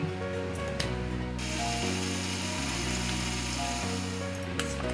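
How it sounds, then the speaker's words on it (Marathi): A loud, steady motorized whir from a mixer grinder grinding coconut chutney with a little water, its churning, grinding texture running continuously, pitch shifting slightly as it works, no talking. "त्याच्यामध्ये आता थोडं पाणी घालून मी मिक्सर लावून घेते"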